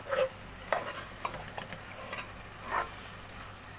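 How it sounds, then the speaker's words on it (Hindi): Beef for masala boti fries in a pan over low heat and is stirred now and then, giving soft scraping strokes over a faint, steady sizzle. "इसको मैंने हल्की आंच पे भून लिया है।"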